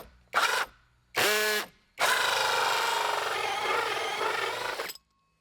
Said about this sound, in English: I'm going to stick my bit in here and then just drill this hole out.